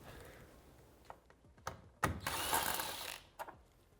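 Tool work removing the top visor mounting bolts on a Polaris RZR XP 4 1000, quiet clicks and ratcheting taps followed by a louder scraping burst and a final clack.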